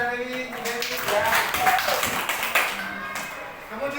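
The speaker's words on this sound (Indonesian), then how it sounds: "Kita tepuk tangan kita dari Dewi ya." Elementary schoolchildren clap together in a classroom after a classmate's demonstration, a short burst of hand claps with a teacher's voice speaking over it.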